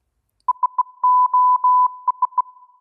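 Morse code sent as steady single-pitch electronic beeps in short and long groups, clean and loud against silence, with no talking.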